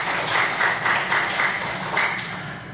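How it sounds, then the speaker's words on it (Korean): A church congregation applauds, close and full, with steady clapping that pulses slightly throughout. "오늘 간증해 주신 세 분 다시 한번 박수 보내주시기 바랍니다"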